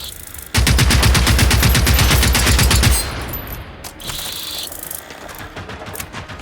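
Rapid automatic gunfire in the video game Generation Zero, a loud continuous burst of shots for about two and a half seconds, then quieter mechanical clicks and a brief high electronic tone.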